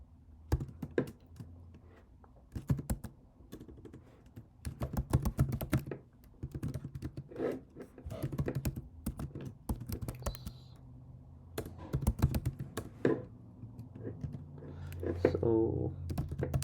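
Someone types Python code on a computer keyboard, with quick clusters of close, crisp keystrokes broken by short pauses.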